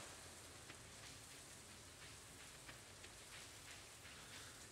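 Steady, dense rain hisses in the Stardew Valley video game, a soft even patter with no voices over it.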